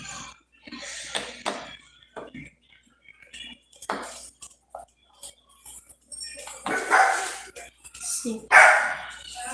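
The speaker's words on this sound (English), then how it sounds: "See, there goes the dog." A pet dog barks several times at middle distance, the barks rising louder toward the end, while a person talks intermittently over them.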